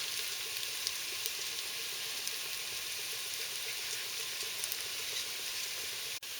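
Beef stock sizzling and frying steadily in a pan for a British beef stew, a continuous bright hiss with faint crackles throughout and no talking.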